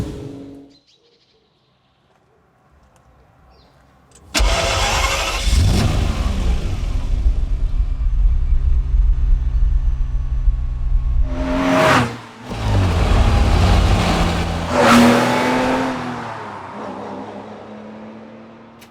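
A Ferrari 512 TR's flat-12 engine fires up after a quiet moment, settling into a loud rumbling idle, then blips twice in sharp revs that rise and fall.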